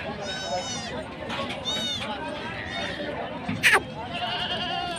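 Goats, including a pregnant one, bleat repeatedly at a livestock market, several wavering calls close by, with background chatter and rustling throughout.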